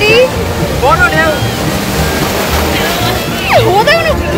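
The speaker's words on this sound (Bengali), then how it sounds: "দীঘাতে আসলে এখন বড় বড় ঢেউ দেখা যাচ্ছে" Surf rolls in at Digha sea beach at full high tide on a crowded shore, a steady broad roar of breaking waves with people's voices carrying over it throughout.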